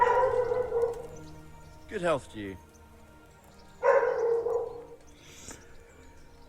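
Indoors, a dog gives a few short barks and yips close by, two separate bursts, while video game sound and dialogue play at the same time.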